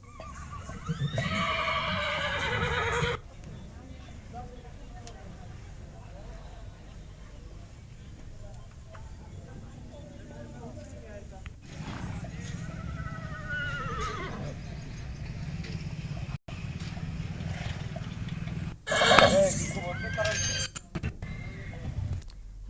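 Horses whinny repeatedly at a horse fair and exhibition with Marwari, Kathiawari and Nukra breeds, several drawn-out neighs rising over steady crowd murmur and outdoor bustle, with one louder, closer call near the end.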